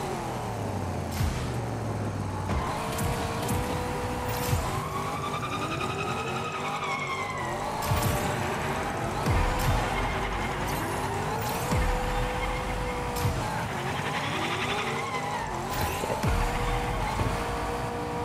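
Race cars roar and whine through a Rocket Racing video game course with a turbo boost, with continuous engine drone, shifting pitch sweeps and occasional tire squeals throughout.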